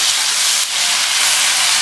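Chopped tomatoes sauté with salt in a pan for sambar, giving a loud, steady, close sizzle that hisses continuously with only a brief dip near the start.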